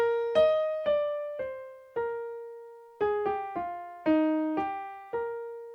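Brahms intermezzo played on piano, the melody carried in the middle voice, with about a dozen clear, separate chords struck at a gentle, unhurried pace, each ringing and decaying, alone and without talk.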